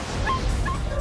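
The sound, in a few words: rescued dogs whimpering in the dog meat trade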